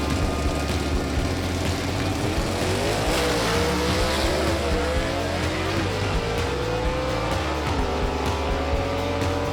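A 1958 Chevrolet Delray gasser drag race car roars flat out down the strip, its loud engine climbing through rising gear pulls with repeated surges of revving, close and continuous.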